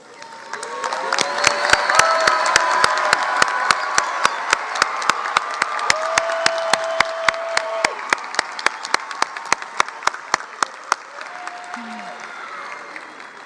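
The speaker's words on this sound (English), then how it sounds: "giving them a round of applause" A commencement audience applauds honors graduates in a large hall, a dense, sustained wave of clapping with scattered cheers that swells and then slowly thins out, while a voice speaks faintly underneath.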